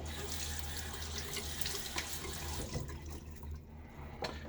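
Lukewarm hard water runs steadily from a tap with a constant splashing rush, fairly close, the flow shifting slightly as hands splash it onto the face before a shave.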